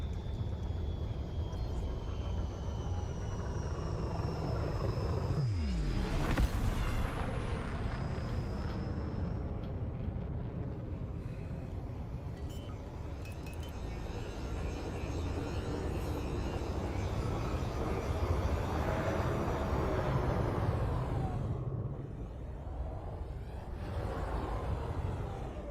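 Spaceship setting down on a planet surface in Elite Dangerous, a steady engine roar and deep rumble with thruster hisses and whooshing bursts that rise and fade, playing alone without talk.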